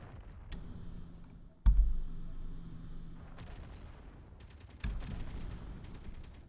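Automated turret guns firing in the Space Engineers survival game on a moon base, heard as sharp bursts and rattling volleys with a heavy thump, distant explosions rumbling between shots.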